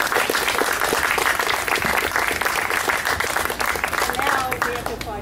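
Sustained audience applause at the close of an outdoor bookstore author conversation, a dense, steady wash of many hands clapping for the whole stretch, fairly close and full, with faint voices mixed in.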